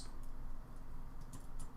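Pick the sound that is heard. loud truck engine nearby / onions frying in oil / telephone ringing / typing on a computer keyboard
typing on a computer keyboard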